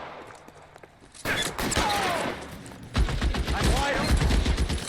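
Shotgun blasts and other gunfire ring out in an L.A. Noire shootout, with sharp repeated bursts starting after a quiet opening and growing denser in a second volley, and voices mixed into the action.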